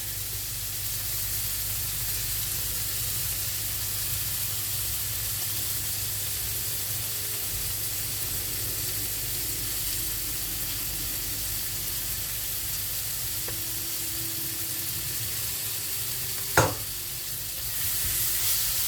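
Green beans and tomato fry steadily in a pan, a constant close hiss and sizzle with faint stirring scrapes, then a sharp clack of a utensil near the end.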